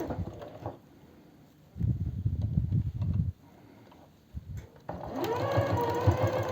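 A sewing machine stitches the hem of a lace cardigan in two short bursts of whirring motor noise, close and fairly loud, separated by quieter pauses.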